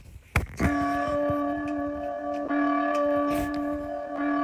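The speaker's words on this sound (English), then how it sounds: "Do you hear that bell?" A deep, resonant bell tolls in the video game Plague Inc, with a sustained ringing tone struck again partway through, over a quiet background with a few soft clicks and no voices.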